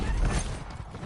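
A quick mechanical clack and rattle of a gun magazine being swapped in a video game, one short close burst of handling noise.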